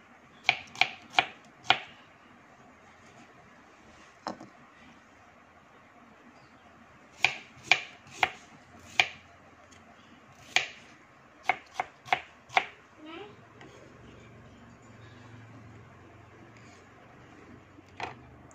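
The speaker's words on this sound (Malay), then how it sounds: "2 biji bawang merah kita akan hiris untuk membuat minyak bawang. Hiris macam nih." Knife slicing shallots on a cutting board for shallot oil, a series of crisp, close chopping taps in quick bursts separated by pauses, with no talk.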